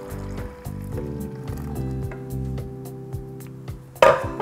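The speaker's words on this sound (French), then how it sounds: "on soulève le petit couvercle de la carafe et on va verser notre jus à l'intérieur" Green juice is poured into a vacuum-seal carafe through its lifted lid, giving a steady liquid glugging and filling sound, close and continuous, with a brief sharper knock near the end.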